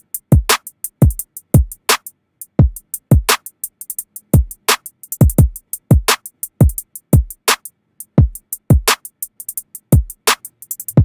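A hip hop drum groove plays alone, its deep booming kicks thumping in a syncopated pattern beneath crisp layered snare and clap hits and a quick, steady stream of ticking hi-hats, loud and clear throughout.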